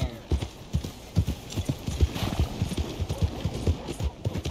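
A horse's hooves clip-clop steadily and close in a video game, a quick rhythmic trot of sharp knocks over a busy background.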